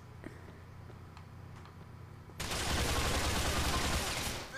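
Gunfire in the video game Grand Theft Auto IV breaks out as a loud, dense, continuous burst of shots that cuts in over a quieter background and carries on to the end.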